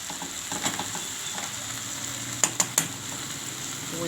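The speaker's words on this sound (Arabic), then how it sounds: "حطيت البصل اهوت واسيبه ما يدبر برده معاها شويه" Onion and garlic frying in a pan, a steady soft sizzle throughout with a few sharp clinks of a utensil near the middle; no voices.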